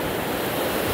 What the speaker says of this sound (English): there's actually some pretty good-sized waves coming in all of a sudden